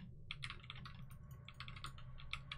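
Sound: computer keyboard keys being pressed

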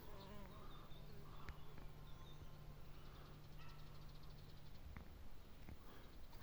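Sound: Osmia rufa red mason bee flying in to pack nest tube

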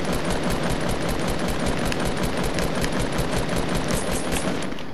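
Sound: SCAR assault rifle gunfire in a video game

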